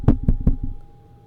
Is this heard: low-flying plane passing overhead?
no